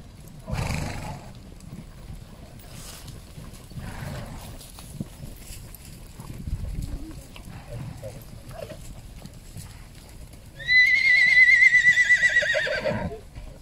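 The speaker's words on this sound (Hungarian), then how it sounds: "megindulnak a lovak" Horses set off at the start of a 6 km run in a horse-riding exam. Hooves clop under background voices, then a loud, close whinny rings out near the end.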